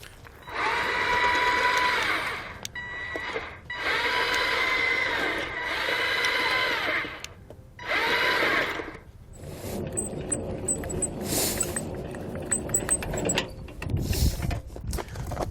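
A Trailer Valet RVR5 remote-controlled trailer dolly drives under a trailer coupler, its electric motor whining in four steady close bursts with short pauses, followed by quieter clicking and rattling handling noises.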